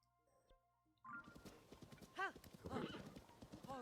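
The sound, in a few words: horse hooves clip-clopping in video game Zelda Tears of the Kingdom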